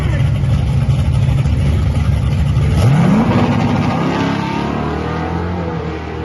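A car does a burnout nearby, its engine roaring loud and steady, then climbing as the revs rise before holding a high, droning note that slowly eases off.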